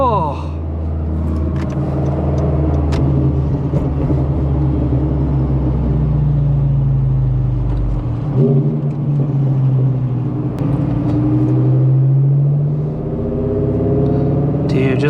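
A Lamborghini Huracán engine holds a loud, deep rumble while cruising on a highway, with a low idle-like drone and tones that rise and fall as revs change. Voices speak over it from inside the car.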